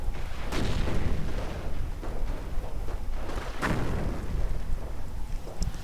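Mortar fire in a real-time strategy battle game, several dull booms scattered across the stretch over a constant windy rumble of battlefield ambience, moderately loud with no talking.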